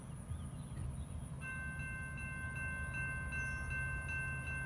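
A CN freight train led by the CN Veterans units passes through Halls, Tennessee, giving a steady, continuous rumble with sustained tonal whines layered over it and no talking.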